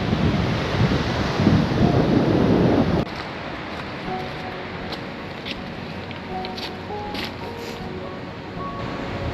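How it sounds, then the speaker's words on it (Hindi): A river rushing below a mountain trail in the Supin Valley of Uttarakhand: a steady, broad roar of flowing water, loud and close for the first few seconds, then softer and more distant, with wind buffeting and no talking. "नीचे तो नदी आ गई इधर"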